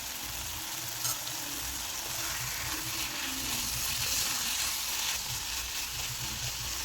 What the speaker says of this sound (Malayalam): എല്ലാം കൂടി ഇട്ട് കൊടുത്തൊന്ന് ഇളക്കി കൊടുക്കാം.